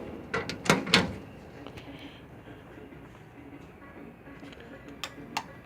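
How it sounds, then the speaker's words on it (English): The deep drawer of a new stainless steel Sears Craftsman tool box slides open with a burst of metallic clanks and rattles, followed by a few faint clicks. "Look at that. Deep drawer like I like."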